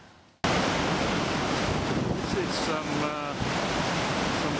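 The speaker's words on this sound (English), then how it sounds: "Some of the waves we've been looking at have been towering over the boat by 10 or 15 foot." Heavy surf and wind roar around a ship crossing high seas toward Antarctica, a loud, steady wash of breaking waves with brief speech over it and a faint tonal whistle near the end.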